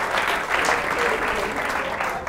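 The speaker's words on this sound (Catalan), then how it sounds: "Un aplaudiment per tots ells." Studio audience applauding in a Catalan television game show, a steady dense wash of clapping held at even loudness from start to finish, with no voices over it.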